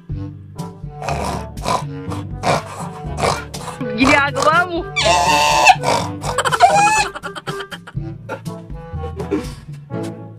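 A man vocally imitates a pig, giving a run of nasal oinks and snorts amid Filipino talk, loud and close, with several grunting bursts clustered in the middle.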